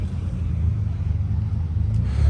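A Toyota Supra idles nearby at a cars and coffee meet, a steady low rumble holding throughout with slight swells, heard alone without talk.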